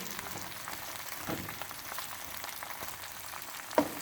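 Okra frying in ghee, a soft continuous sizzle with faint crackles and one small clink near the end.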